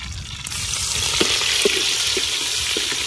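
Garlic sizzles and crackles in hot oil for mutton tempering, a steady close frying hiss with a few soft stirring knocks throughout.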